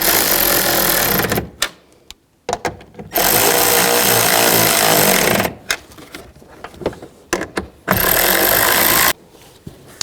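A power tool tightens the nuts on a 2003-06 Infiniti G35 tail light in three loud, close bursts of whirring and rattling, with short pauses and small clicks between them.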